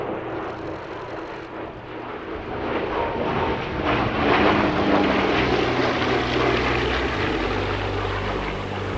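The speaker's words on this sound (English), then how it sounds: "the A-26 joined up with Fighter Aviation Engineering's P-47 and Fury for" An A-26 flies in formation with a P-47 and a Fury in a pass at the Duxford Battle of Britain Airshow, their piston engines droning and rising to a loud roaring peak overhead before slowly fading.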